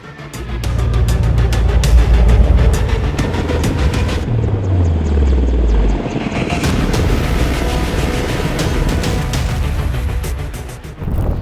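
An Apache attack helicopter flies close by with a loud, steady rotor and engine roar lasting the whole stretch. A deep low drone sweeps downward partway through as it passes, and there is no talk.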